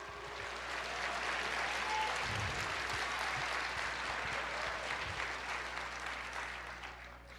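A church congregation applauds during an Easter service, a moderate, even wash of clapping that swells and then slowly eases, heard at a distance, with low rumbling handling noise beneath.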